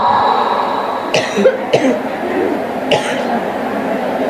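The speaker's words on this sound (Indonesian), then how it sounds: "Ini saya teriak-teriak sampai batuk nih" A few sharp coughs, about three, close by, amid a noisy background with some voice.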